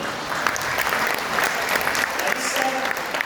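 Loud, energetic clapping fills a hall at a motivational seminar event in Agra, dense and continuous throughout with faint crowd voices blended underneath.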